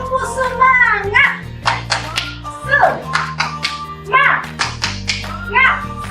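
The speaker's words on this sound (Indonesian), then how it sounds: "semakin semangat kita akan tepuk semangat" Children and a leader perform a rhythmic clapping chant routine, sharp patterned hand claps and taps close to the microphone over a music bed, with voices chanting along.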